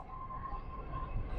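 Inside a Mumbai Metro Line 2B train nearing its final station, Mandale, a quiet steady rolling hum with a faint tonal whine fills the brief moment, with no voices.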